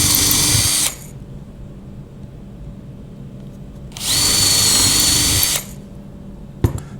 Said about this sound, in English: Then I can use the drill with the stop collar on it